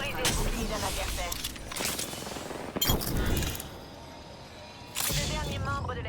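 Dense gunfire from Apex Legends bursts out in rapid, loud volleys with brief lulls, layered over game music and effects while a voice speaks.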